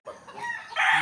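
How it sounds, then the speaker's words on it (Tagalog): A rooster crows nearby, its call rising and holding loud toward the end, with faint birdsong in the background. "maririnig nyo, puro huni ng ibon at tilaok ng manok"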